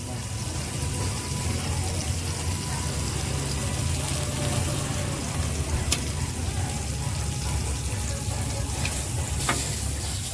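Chicken steaks grill in margarine and butter on a hot pan, giving a steady, loud, even sizzle and hiss that runs unbroken throughout, with faint clinks now and then.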